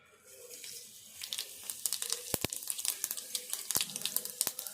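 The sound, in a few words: tempering spices spluttering in hot oil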